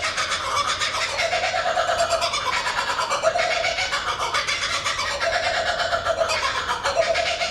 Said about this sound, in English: that's a kookaburra, native bird to this country